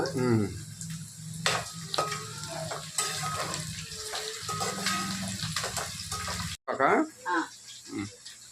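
Bay leaves (biryani leaves) drop into a hot pan and sizzle steadily and closely, the frying hiss running continuously while a voice talks over it.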